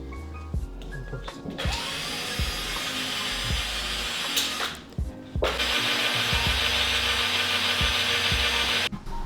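Plastic tab on a replacement Lexus tail light being shaved down with a power tool, a steady loud grinding whine running in long stretches with brief pauses and uneven rasping texture throughout.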